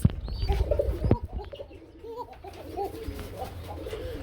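Pair of pigeons cooing at a fancy pigeon fair, soft repeated coos and chirps close by, with a few sharp knocks at the start and faint background noise.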